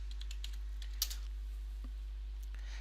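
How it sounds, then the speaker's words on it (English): Soft, faint keystrokes on a computer keyboard as a software name is typed into a search box, a light run of clicks with one sharper tap, over a steady low electrical hum. "Type Zotero in the search box"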